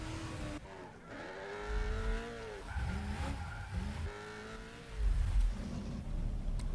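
Ken Block's rally car tears through a Gymkhana run, engine revving hard with rising and falling pitch, tire squeal and skidding in repeated bursts, fairly close and loud.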